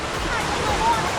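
Cold stream water flowing at Promised Land State Park in Pennsylvania, a continuous broadband rushing wash heard close and steady throughout, with a faint voice mixed in.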